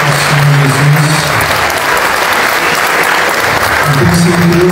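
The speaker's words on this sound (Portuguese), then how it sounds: "Uma salva de palmas para o nosso Deus" Loud, dense applause from a church congregation, praising God during a service, a continuous wash of many hands clapping, with cheering voices rising over it at the start and end.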